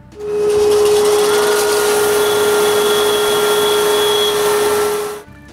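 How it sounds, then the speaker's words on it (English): A band sander runs steadily on the flat sides of a small turned wooden piece, a loud, continuous whirring drone with a constant hum that starts abruptly and stops after about five seconds. "The flat sides are done on the band sander."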